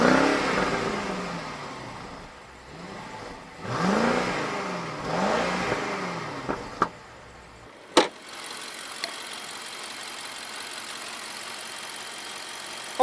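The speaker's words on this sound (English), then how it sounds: "Let's go ahead and take this car for a ride and see what we really think." A 2015 BMW 6 Series with a twin-turbo engine drives off and accelerates, its engine note rising in repeated sweeping surges, then settling into a steadier cruising hum with a couple of brief clicks.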